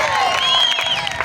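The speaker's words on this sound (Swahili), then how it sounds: "Makofi mengi kwa Bwana aliye hai." A church congregation claps and cheers together during a sermon, a dense, loud, steady wash of applause with shouting voices over the full stretch.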